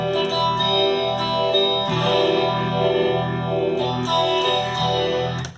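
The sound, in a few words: electric guitar through DoD 250 distortion pedal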